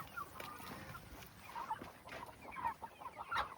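Backyard chickens clucking nearby, a run of soft, irregular murmuring clucks from a small flock outdoors, with faint background noise and no talk.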